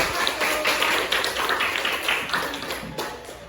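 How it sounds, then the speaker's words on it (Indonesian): Children clap in a classroom during a teaching-practice lesson, a steady patter of many quick overlapping claps at moderate loudness, sustained throughout with no talk on top. "Beri tepuk tangan dulu buat Om."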